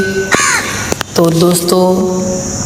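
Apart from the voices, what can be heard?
crow cawing nearby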